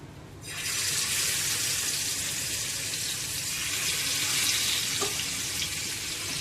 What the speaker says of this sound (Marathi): तीन ते चार मिनटं हा मासा खालच्या बाजूने फ्राय करून घेऊया